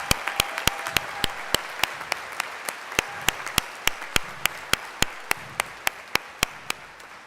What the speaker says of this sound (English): Let's have another round of applause for our fabulous pipers